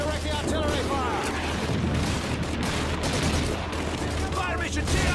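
Continuous dense battle din of artillery fire and gunfire in the WWII shooter Call of Duty 2, set in a desert tank battle, loud and sustained with shouted voices mixed in.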